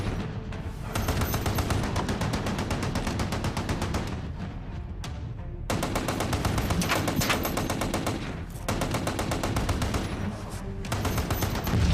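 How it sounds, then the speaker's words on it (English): Gunfire with sustained, dense bursts of loud automatic fire, including heavy machine-gun rounds, roaring almost without pause for twelve seconds, with only a brief dip midway. "keep firing that gun!"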